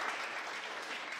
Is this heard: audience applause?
yes